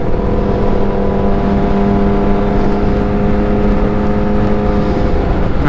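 A motorcycle engine revs hard and steadily during a wheelie, loud and close, while the rider carries about 40 pounds on his back.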